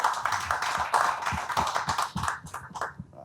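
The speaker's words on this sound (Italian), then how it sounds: "Vi chiedo un grosso applauso" Scattered audience clapping at an Italian book presentation in Ponte della Priula, with sharp uneven claps from a modest crowd that thin out and fade toward the end.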